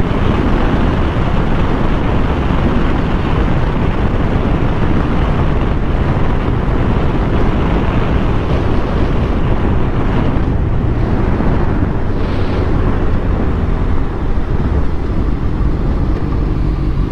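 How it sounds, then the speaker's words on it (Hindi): A BMW XR motorcycle fitted with an Arrow exhaust rides along a road during the Mumbai monsoon, a continuous loud engine roar mixed with heavy wind buffeting on the microphone. "ये BMW XR में लगा है एरो का एग्जॉस्ट, सो काफी बढ़िया साउंड करता है।"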